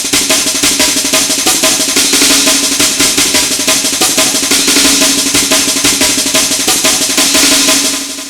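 A dense, continuous drum pattern built from chopped breakbeat snares, busy and loud with rapid crisp hits running steadily throughout before trailing off at the end.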